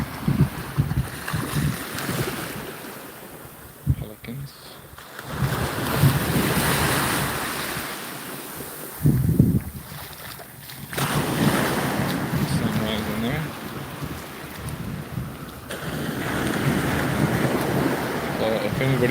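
Ocean surf rolls in at Lido Beach in Sarasota, Florida, a broad washing roar that swells and recedes over and over, mixed with strong wind buffeting the microphone.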